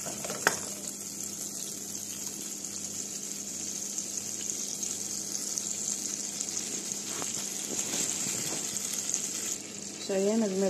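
Butter melts in a pan for a cream sauce, giving a soft, steady sizzle at low volume with faint stirring clicks and a brief clatter near the end.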